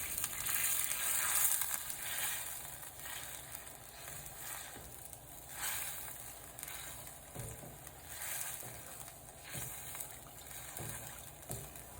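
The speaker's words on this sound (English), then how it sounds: "Then add the tofu cubes. Let the tofu simmer in the sauce." Tofu cubes simmer in mapo sauce with added water in a wok, giving a soft, steady bubbling sizzle, quiet and continuous with occasional faint clicks.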